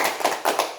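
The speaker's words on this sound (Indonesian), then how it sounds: "kita lakukan tepuk hebat dulu, tepuk hebat ya" A group doing a rhythmic chanting clap routine, several sharp claps in quick succession, close and clear in a seminar setting.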